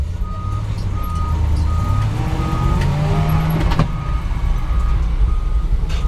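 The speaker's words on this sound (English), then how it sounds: "It's got a reverse alarm" The reverse alarm on a 1988 Chevy 2-ton dump truck sounds a regular series of short beeps over the steady low rumble of the idling engine inside the cab.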